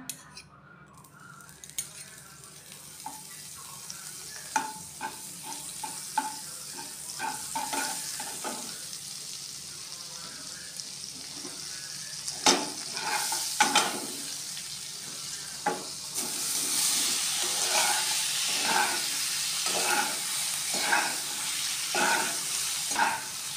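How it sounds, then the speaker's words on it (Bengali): Paneer cubes frying in butter in a kadai give a soft, steady sizzle with frequent spoon scrapes and clinks while being stirred. The sizzle swells noticeably louder in the second half. "প্রথমে আমরা পনিরটাকে ভেজে নেব বাটার দিয়ে।"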